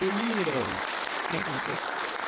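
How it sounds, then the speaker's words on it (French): Audience applauding a panel at a cyber-resilience crisis-management breakfast event, a steady broadband wash of clapping throughout, with a voice speaking over the start. "merci au panel qu'on peut applaudir"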